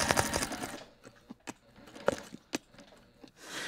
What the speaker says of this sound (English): So I'm just going to back stitch a bit here